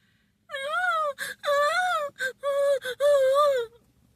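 A human voice imitates a dog whining and whimpering, close and alone, with a series of drawn-out, wavering high whines broken by short catches and pauses.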